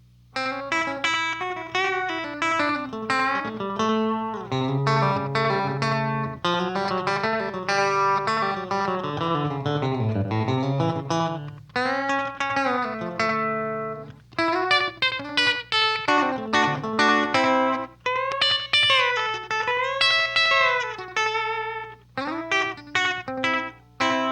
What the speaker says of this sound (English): Now I'll add the effect, the echo, just by itself.